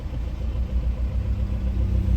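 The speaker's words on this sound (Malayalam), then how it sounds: "അതൊരു വണ്ടിയും വരുന്നുണ്ട്." A vehicle approaching on a Himalayan mountain road between Gangotri and Kedarnath, its engine humming low and steady, a constant rumbling drone with no voices over it.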